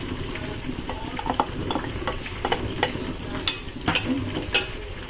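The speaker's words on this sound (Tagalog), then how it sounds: "Igisa rin natin ang hotdog." Hotdogs sautéing in a frying pan with meat, giving a soft continuous sizzle broken by scattered light clicks and scrapes of a stirring utensil, louder knocks toward the end.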